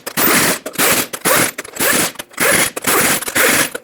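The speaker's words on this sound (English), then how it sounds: "we're going to torque these to 148 foot-pounds" Wrench torquing the front wheel lug nuts of a Ford E-350 in a cross pattern, repeated loud ratcheting bursts of about half a second each with short gaps between, close up.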